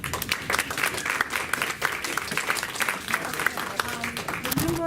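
Audience at a civic association candidates' debate in Sound Beach, New York, breaking into dense, sustained clapping from many hands, fairly close and steady, with some voices mixing in near the end.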